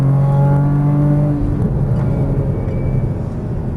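Porsche Cayman GTS engine on a race track, a loud steady drone with a strong low tone that shifts pitch midway as the throttle eases, then carries on as a rough, continuous engine roar.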